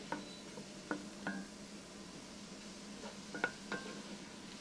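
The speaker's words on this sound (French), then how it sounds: "on fait revenir tout ça à feu moyen" Vegetables for a Southern chicken perloo sautéing over medium heat, a faint low sizzle broken by a few sharp clinks and scrapes of a stirring utensil against the pot, with no talking.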